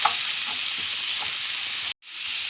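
Chopped garlic dropped into hot oil in a pan for a squid dish, sizzling loudly with a few stirring clinks, then a sudden brief silence before the frying resumes.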